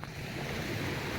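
Sea waves washing onto a shore in Bicol, a steady broadband surf wash with some wind noise, loud and close, with no talking.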